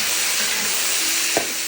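Ox penis stir-fried in a wok of hot oil with scallion, ginger and whole spices gives a steady, close sizzle throughout, with one brief clank of a utensil near the end.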